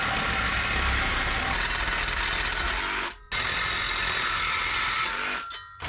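A 1990 Ford F600 truck with carburetor issues and the exhaust cut off, its engine idling loudly and steadily with two brief dropouts.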